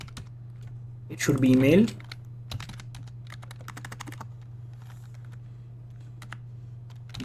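Typing on a computer keyboard while entering a password into a web form, light scattered key clicks running through most of the stretch behind a steady low hum, with a brief spoken phrase near the start.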